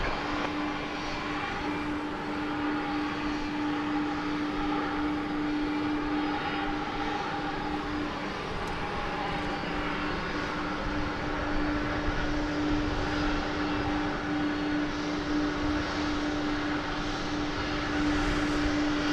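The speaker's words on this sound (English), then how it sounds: "a beautiful 757 is on the way out" A Boeing 757 jet departs at night from DFW airport, its steady engine roar holding loud and constant for the whole stretch, with a sustained tonal whine riding over the broadband rumble.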